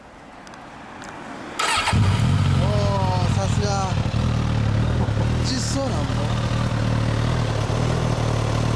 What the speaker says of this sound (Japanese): ほな、エンジン音聞かせてもらえますか？